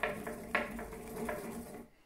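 Fennel seeds pounded in a pestle and mortar give several sharp knocks in an uneven rhythm, close and moderately loud, ending in quiet.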